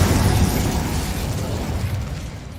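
Fire spell effect from a magic-themed video game: a loud, roaring burst of crackling flame that starts at full force and slowly fades over a couple of seconds, with no talking.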